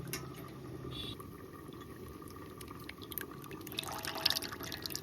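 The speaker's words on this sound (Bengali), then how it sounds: "এখন পড়ছে স্বচ্ছ জল" Clear water dripping and trickling through a strainer after straining a thick pulp, a soft continuous patter with a few brighter drops near the end, close and faint.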